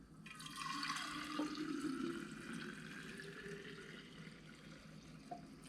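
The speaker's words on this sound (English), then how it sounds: "It's a great thermos, and I'll go ahead and fill it." Juice is poured into a thermos in one steady stream whose tone shifts as the container fills, running quietly on its own without talk.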